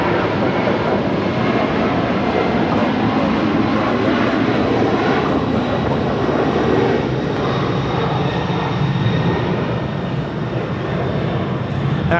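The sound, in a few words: Asiana Cargo Boeing 747-400 converted freighter departing LAX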